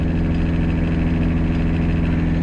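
A Toyota Kijang 2L diesel engine runs steadily with a low, constant drone and a faint whine layered on top, close and loud throughout.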